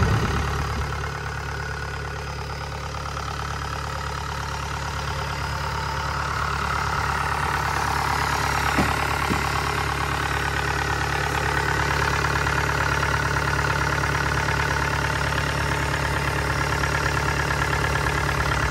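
A Kubota DC70 combine harvester engine idles steadily and smoothly at close range, a constant even drone for the whole stretch with no voices over it.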